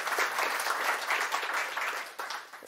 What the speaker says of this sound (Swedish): Jag ska aldrig vara snål med applåder.